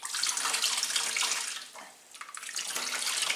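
Soaking water being poured off beans into a sink, a steady loud rushing splash that briefly eases midway before resuming at full flow.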